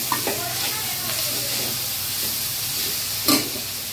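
Chili powder sautés in a pan for vegetable fried rice, giving a continuous close sizzle and hiss with faint stirring scrapes and a short clatter near the end.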